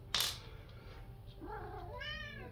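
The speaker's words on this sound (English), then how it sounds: "Yes, your little kitty." A small kitten meows a few times, with a rising then falling cry and a sharp noise at the start, close by in a quiet workshop that is being moved.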